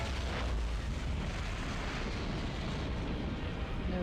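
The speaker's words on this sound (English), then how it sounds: "Alfred, detonate the Batmobile." The Batmobile detonated in the Batman Begins PS2 video game, a dense, roaring explosion rumble that stays loud and sustained for several seconds before easing slightly, with no speech over it.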